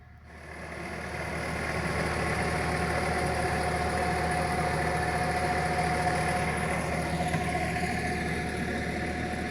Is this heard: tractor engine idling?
yes